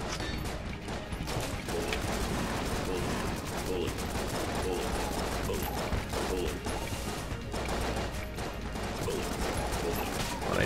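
Dense, chaotic gunfire from the video game Enter the Gungeon rattles on steadily with rapid shots and clattering impacts, a busy, continuous barrage of game effects.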